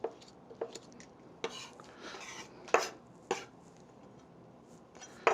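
A knife presses and minces garlic on a cutting board, giving a close series of sharp, irregular taps and scrapes with quiet pauses between them and no talking.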